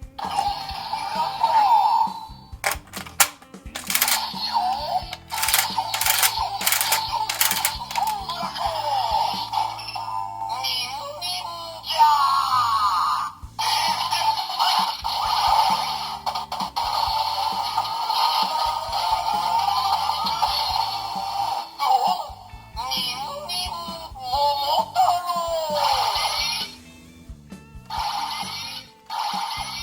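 Electronic sound effects from an Avataro Sentai Donbrothers toy blaster play continuously, warbling and chirping tones with buzzy bursts and a few clicks, fairly loud and close.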